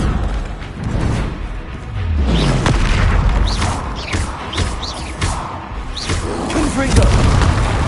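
A Confringo fire spell bursts in Hogwarts Legacy combat, giving repeated booming blasts and crashes amid other spell effects, loud and close, with a voice speaking over the fight.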